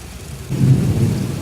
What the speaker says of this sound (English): Thunder rattling the doors and windows.